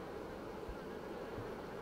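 A tiny swarm of honey bees buzzes in a soft, continuous drone, faint but close, with no one talking.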